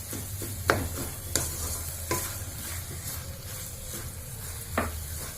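Carrot halwa mixture with sugar is stirred in a hot pan, with a soft sizzle underneath and several distinct scraping strokes of the spoon against the pan.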